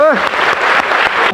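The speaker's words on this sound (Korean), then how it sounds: "큰 박수 부탁드리겠습니다." Applause from the audience at a cargo truckers' union general assembly, a dense steady patter of many hands filling the hall, opening with a brief tonal sweep and continuing loud throughout.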